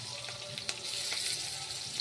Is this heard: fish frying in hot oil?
yes